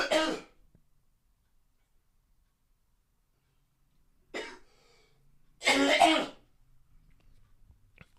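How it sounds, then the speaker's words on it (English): A person clears their throat and coughs, a short burst at the start followed after a quiet pause by two more close coughs. "I'm gonna cough again"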